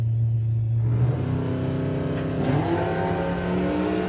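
A V8 Vauxhall Cresta drag car accelerates down the strip at Santa Pod Raceway. The engine note climbs steadily as it revs up, loud and close, with a rising roar and no voices.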